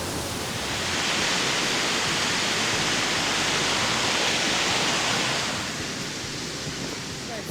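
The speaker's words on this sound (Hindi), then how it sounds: "इधर बहुत अच्छा पानी का झरना हो रहा है" A jungle waterfall in East Sikkim pours with a dense, steady rushing hiss that fills the scene, swelling slightly louder in the middle before easing back, with no other sounds standing out.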